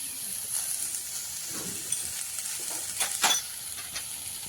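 Water spinach sizzling and frying with turmeric and slit green chillies in a pan, a steady soft hiss with a few brief louder crackles and stirring scrapes, close by and without talk.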